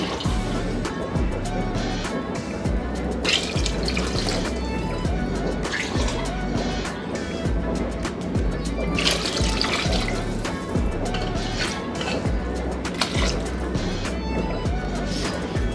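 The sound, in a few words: water being poured into a cooking pot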